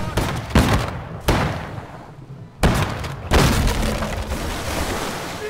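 Heavy booming blasts of ship cannons in a naval battle in Holdfast: Nations At War, four loud shots spaced a second or so apart, each with a rumbling decay.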